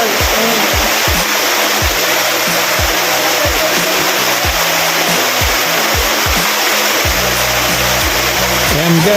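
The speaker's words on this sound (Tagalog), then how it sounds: "Welcome to Diguisit Falls. Wow, ang ganda ng falls, oh." Diguisit Falls in Baler, Aurora pours with a loud, constant broadband roar of falling water that fills the whole scene, steady and close throughout.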